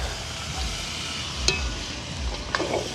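Cashews and green peas are tipped into a pot and stirred in hot oil for a village wedding-style curry, giving a steady sizzle with scraping stirs and a couple of sharp clinks of a spoon against metal.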